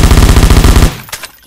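Vector submachine gun in a Roblox game firing a fast, loud automatic burst of evenly spaced shots that stops abruptly, followed by a couple of fainter clicks or shots.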